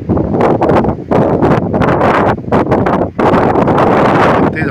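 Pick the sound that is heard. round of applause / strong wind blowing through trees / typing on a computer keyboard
strong wind blowing through trees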